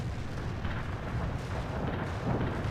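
Dense, rumbling artillery barrage in the World in Conflict strategy game, with continuous overlapping booms and blasts forming a loud, unbroken roar.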